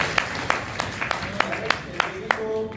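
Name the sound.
audience applause for Ravi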